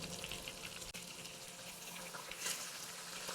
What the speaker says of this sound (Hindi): और साथ ही इसके अंदर मैं 1/2 कप के करीब पानी ऐड कर रही हूँ।